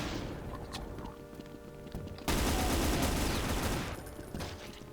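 Video game gunfire bursts out in a rapid, dense volley partway through, loud and sustained for about two seconds before easing, with sparser game noises around it.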